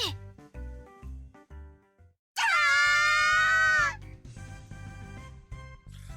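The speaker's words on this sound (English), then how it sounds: "The girls squealed and my eardrums felt like they were going to explode." Several anime girls in a Japanese dating-sim video game let out a loud, sustained high-pitched squeal lasting over a second, over light rhythmic background music, with quieter moments before and after.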